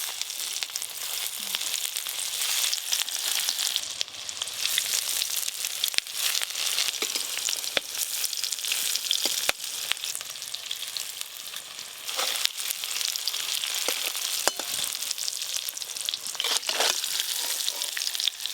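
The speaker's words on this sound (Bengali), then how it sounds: "এইগুলো আমি ভালো করে আলুর মতো ভেজে নেব।" Cauliflower and egg pieces fry in hot oil with a dense, continuous crackling sizzle that stays loud and steady throughout, with occasional faint clicks and no talking.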